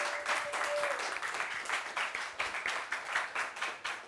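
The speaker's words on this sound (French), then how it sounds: "applaudissements pour Adama, s'il vous plaît" Audience applause greets a guest named Adama at a French-language talk show gathering, a dense, steady clapping that holds throughout with a faint voice briefly underneath.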